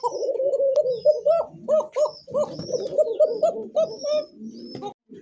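Fancy pigeons coo close by, repeated soft throaty rolling calls that overlap in quick bursts, with a few brief higher chirps mixed in.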